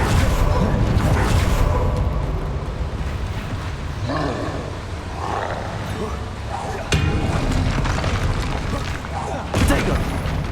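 Bombarda blasting spell explosions in the Hogwarts Legacy video game, loud booming bursts with whooshes over constant battle noise and music, a couple of sharp impacts standing out.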